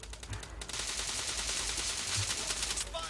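Automatic gunfire in a PUBG Lite mobile team deathmatch, a continuous rattling burst of rapid shots for the whole stretch, close and loud.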